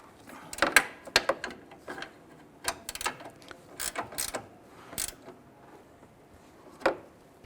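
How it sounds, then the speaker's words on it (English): Nuts on a 1999-2004 Jeep Grand Cherokee hood latch cable are tightened with a ratchet, giving bursts of sharp clicking at an uneven pace across several seconds, close up and with no talking. "So go ahead and secure those nuts."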